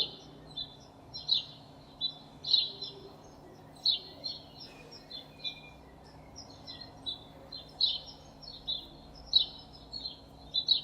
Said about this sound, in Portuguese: É um pássaro.